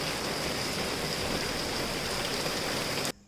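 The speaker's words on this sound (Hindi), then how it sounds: "और यहाँ 2 दिन से बारिश हो रही है" Steady heavy rain pours down continuously, a dense even hiss of drops on surfaces close by, cutting off abruptly near the end.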